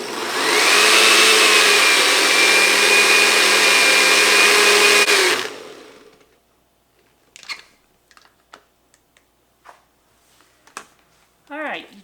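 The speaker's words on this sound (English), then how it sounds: "I'm going to add that to the blender" A kitchen blender whirs loudly and steadily for about five seconds, blending chili sauce with reserved cooking liquid for Texas chili, then shuts off, followed by scattered clinks and handling noises while a person talks.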